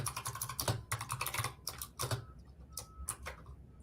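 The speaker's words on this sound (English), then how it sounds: "I got this fancy clickety clackety keyboard that I love." Rapid, uneven bursts of typing on a clicky computer keyboard, the keys clacking crisply and close by with brief pauses between runs, no voices.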